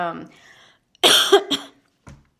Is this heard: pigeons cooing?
no